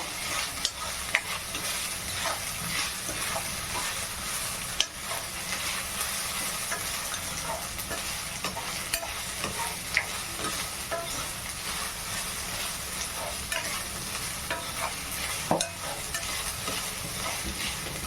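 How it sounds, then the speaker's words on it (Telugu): Green chillies fry with ginger garlic paste in a pan for paneer butter masala, a soft continuous sizzle broken by regular scraping and stirring clicks throughout. "పచ్చిమిర్చి వేయండి. వీటిని కూడా వేపండి కాసేపు బాగా."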